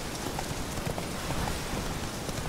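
Horse hooves clip-clop at a steady trot in the video game The Witcher 3: Wild Hunt, a continuous rhythmic clatter over dense background noise with no speech.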